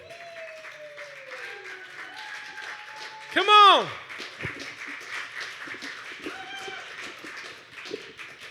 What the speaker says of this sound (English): Please give a huge round of applause to Da